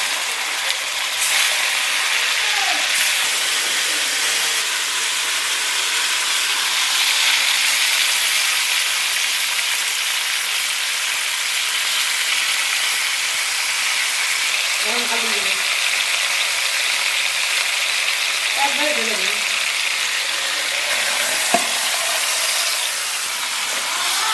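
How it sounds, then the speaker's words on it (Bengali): Fresh pond fish fry in a kadai with a loud, continuous close-up sizzling hiss that holds steady throughout, while faint voices come through now and then. "মাছগুলো এখন সাজিয়ে সাজিয়ে দেবো কড়াইতে"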